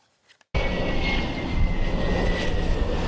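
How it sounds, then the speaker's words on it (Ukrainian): A Saab 340 airborne early warning and control aircraft (ASC 890) flies over Sweden, its engine roar cutting in abruptly after a near-silent start and holding loud and steady with a faint high whine. "У небі над Швецією здіймається літак раннього попередження та управління АС 890"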